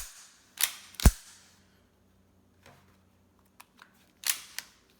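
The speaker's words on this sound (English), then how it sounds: "Magazine in." Magazine being handled and seated in a Ruger 22/45 .22 pistol: a few sharp metallic clicks and clacks, one heavy snap, then a couple of lighter taps and a final pair of clicks, close and isolated with no talk.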